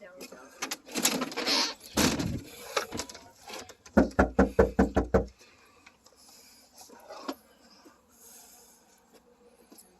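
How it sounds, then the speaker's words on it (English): A front door is knocked on in a quick burst of about six loud, close raps. Footsteps and shuffling come just before, faint voices follow afterward, and birds call in the background. "Let's go knock on the door."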